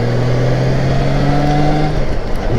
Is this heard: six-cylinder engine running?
yes